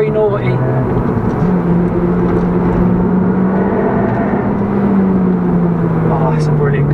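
A Toyota Yaris GRMN Gazoo Racing hot hatch drives hard, its engine droning steadily and rising and falling in pitch throughout, loud and close with continuous cabin noise and a voice talking over it.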